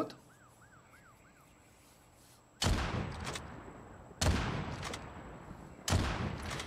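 After a quiet stretch with a faint warbling tone, three heavy gunshots from a weapon in COD Mobile or PUBG Mobile ring out, evenly spaced, each with a booming tail.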